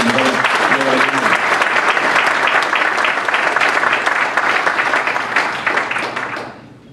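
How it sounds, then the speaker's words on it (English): Audience applause for students at a fraternity chartering ceremony, a loud sustained wash of many hands clapping with some voices at the start, holding steady before tapering off in the last second. "let's give our students a round of applause for following their lead"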